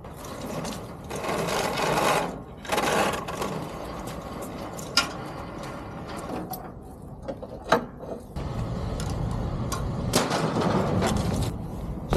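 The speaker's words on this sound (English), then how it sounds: "Just gotta hook a winch up to it and pull it on." A winch cable draws a van onto a car hauler, giving a steady grinding, rasping mechanical drone that runs for about twelve seconds with brief pauses and a few sharp clanks, close by and with no voices.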